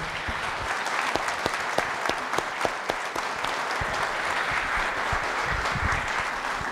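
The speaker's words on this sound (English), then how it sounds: "Another round of applause." Sustained audience applause fills a Veterans Day ceremony at the Nixon Library after a high school choir performance, dense steady clapping from a large crowd with scattered louder claps throughout.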